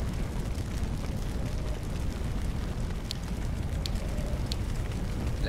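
Fire in a firefighting simulator game, a dense steady roar and crackle with occasional sharp pops, loud and close throughout with no voices.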